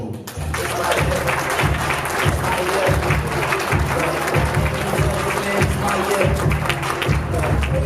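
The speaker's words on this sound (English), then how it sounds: "with a round of applause," A dense, loud round of applause from an audience welcoming a keynote speaker at Ohio State University, sustained for several seconds over a steady, beat-like low thump.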